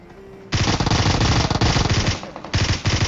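Loud, rapid automatic fire from an M16 rifle in the PUBG Mobile video game, starting abruptly after a brief quiet moment and continuing in two sustained bursts separated by a short pause.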